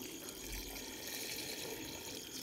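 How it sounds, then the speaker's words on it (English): Water is poured into a pot of rice while cooking Nigerian jollof, making a steady, close rushing and splashing stream with no break. "So this is where I was adding the water."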